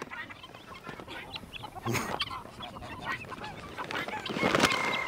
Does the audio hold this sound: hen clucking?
yes